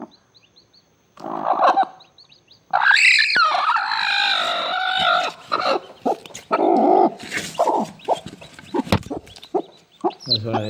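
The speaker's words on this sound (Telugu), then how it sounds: "ఇది మా కోడి ఈరోజే ఇప్పుడే పిల్లలు చేస్తుంది." A brooding hen sits on a clutch of fifteen eggs as her chicks hatch, giving close, loud bursts of clucking and throaty calls with short pauses between them.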